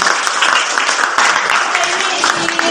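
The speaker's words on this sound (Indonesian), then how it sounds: "tepuk tangan buat Valerie" Classmates clap for a student during a geometry lesson on reflections, a brisk burst of close, fairly loud clapping from a small group in a classroom lasting a few seconds.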